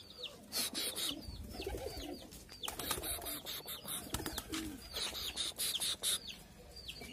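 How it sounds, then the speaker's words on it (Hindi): Pigeons near a rooftop loft give soft repeated coos and chirps, with busy overlapping bird calls filling the scene at moderate distance and no talking. "सारी कबूतर अपने चले गए, सिर्फ शो वाला बैठा है तार पर जाकर"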